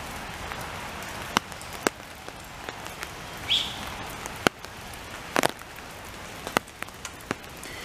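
Rain falling on a summer cottage garden of dahlias and oriental lilies, a steady soft patter with scattered sharper drop hits throughout, close and fairly quiet.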